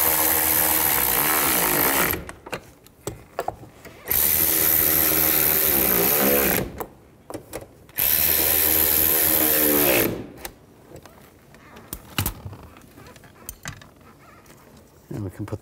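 A power tool tightening screws on a 2007-13 Chevy Avalanche driver-side door handle, three loud sustained whirring runs of about two seconds each, separated by quieter gaps of handling clicks and rattles.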